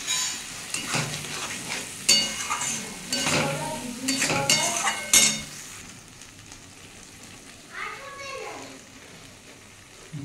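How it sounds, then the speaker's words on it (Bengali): Potato, pointed gourd and peas curry sautéing in a pan sizzles in loud bursts with stirring scrapes, then fades quieter while voices, including a child's, are heard in the background. "এটা একটু ভালো করে কষিয়ে নেব।"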